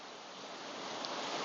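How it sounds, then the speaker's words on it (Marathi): Heavy rain pouring in Pune, a steady, dense, even hiss that holds at a constant moderate level throughout, with no voices. "पावसाचा अजून जोर वाढलेला आहे"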